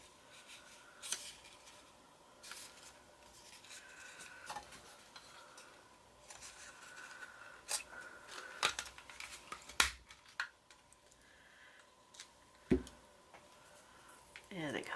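A hand paper punch cuts through rice paper sandwiched between two other sheets, giving a few sharp, quiet clicks and snaps spaced across a faint, rustling background during papercraft work.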